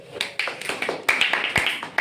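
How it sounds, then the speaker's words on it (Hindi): A few people clap in a brief, uneven patter of handclaps, close and moderately loud. "सभी को दिखाओ, तालियां हो जाए।"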